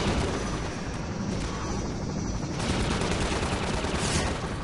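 Rapid, dense gunfire from a gunship in Half-Life 2, a steady unbroken roar of shots lasting the whole stretch, loud and close with no talk over it.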